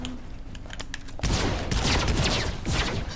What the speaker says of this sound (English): Whoa, he's got the Tommy gun?